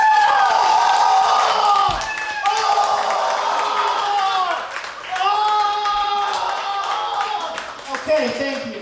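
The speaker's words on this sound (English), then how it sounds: "If you could just give us a round of applause." A theater audience claps, cheers and whoops for a stage show, the crowd noise thick and lively throughout, with overlapping excited voices and bright whistle-like tones on top.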